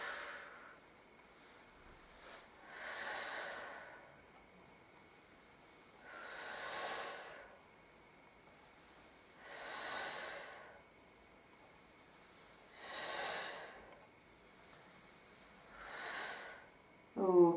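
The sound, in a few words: breathing in and out during Pilates exercise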